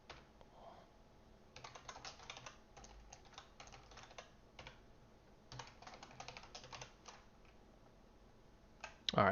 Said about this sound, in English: I'm just going to continue typing.